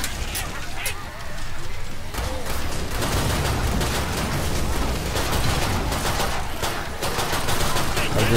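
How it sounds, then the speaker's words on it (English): Continuous video game gunfire from the zombie shooter Killing Floor 2, dense rapid shots and bursts at close range throughout, with chaotic effects layered in. "Just shooting everywhere"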